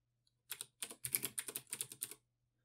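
Roughly a dozen quick keystrokes on a computer keyboard as a folder name is typed, close and crisp in a brief burst with a short pause near the start, no talking.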